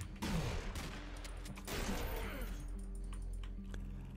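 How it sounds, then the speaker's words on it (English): Shotgun blasts in the horror video game Putrefaction, two loud sharp booming reports about a second and a half apart, each trailing into ringing echo and rattling debris. "some of these boys and girls have shotguns"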